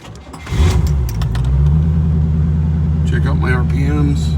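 A 1986 C4 Corvette engine cranks and catches, then settles into a steady, loud, close idle with a slight rev toward the end, while someone talks over it.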